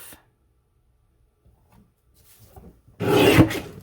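A paper trimmer slices through stacked cardstock, giving a short, close scraping rasp near the end after a mostly quiet stretch with faint handling noises.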